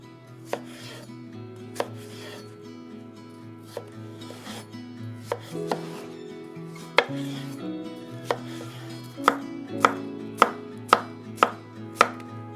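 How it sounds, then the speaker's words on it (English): A knife chops a large cucumber into small strips on a cutting board, giving sharp, distinct taps at an irregular but quickening pace, close and clear, over low background music. "So to slice it really small, I'm gonna cut it in half and then I'll just cut little strips out of it."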